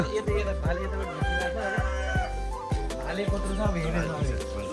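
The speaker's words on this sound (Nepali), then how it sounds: "कुखुरा कता बासिरहेको थियो त" A rooster crows repeatedly nearby, with clucking fowl and voices talking in the background throughout.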